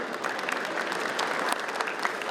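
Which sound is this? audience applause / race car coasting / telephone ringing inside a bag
audience applause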